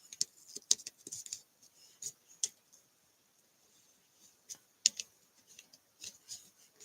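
Scissors snipping ribbon for a wedding decoration, sharp close clicks and cuts in irregular bursts separated by quiet pauses.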